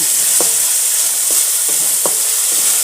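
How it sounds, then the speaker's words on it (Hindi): Steady close-up sizzle of onion, garlic and ginger frying in a pan for bhindi masala, with a few soft clinks and scrapes of stirring. No one speaks. "प्याज और लहसुन अदरक फ्राई हो गई"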